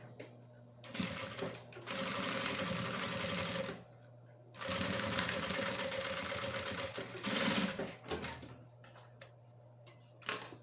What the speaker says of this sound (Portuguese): E faço um pezinho de máquina.